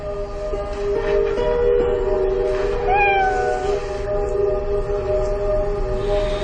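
A cat meowing inside a house bedroom, a single drawn-out rising and falling meow partway through, fairly faint against a steady droning hum.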